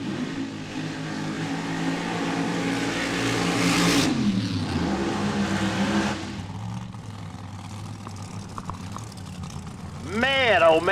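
A nitro Funny Car engine at a drag race, revving loud and close during pro eliminations at a Chaos in the Cornfield event, with a rising roar that swells and then cuts off, while an announcer talks over the noise.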